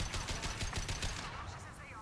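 Rapid burst of sniper rifle shots in the game Mass Effect 2, a run of sharp, evenly spaced cracks that ends abruptly and leaves a quieter, ringing tail.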